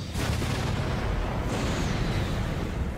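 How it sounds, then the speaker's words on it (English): A huge magic explosion from the Arifureta anime booms with a dense, sustained roar that fills the whole stretch at high loudness, with no talk over it. "It's a huge explosion."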